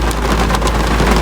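Heavy rain pours during a road trip stop, a brief, loud, steady hiss with a low rumble beneath it.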